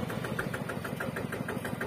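A modified ride-on farm tractor, converted from a walk-behind plough, idles with a steady, even engine chug, close and continuous with no voices.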